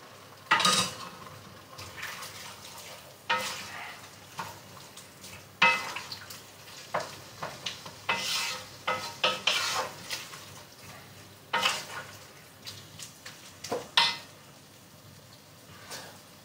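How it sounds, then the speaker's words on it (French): Broth is ladled over a lamb sauté in a pan. Clinks of a ladle and pan come in scattered bursts over a soft, steady simmer, with no talking. "je vais arroser avec... Je vais partir sur 2 louches pour commencer, à peu près un verre"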